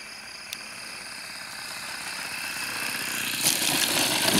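OS FS 52 four-stroke nitro engine on a 1.5 m EcoTop Maracana RC plane, a buzzing engine drone at a distance that grows gradually louder over a few seconds, with no talk.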